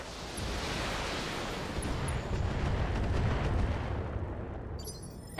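Salvo of LRM missiles launching and impacting in the BattleTech video game, a dense, sustained roar of rumbling blasts and whooshing noise that swells toward the middle and cuts off near the end.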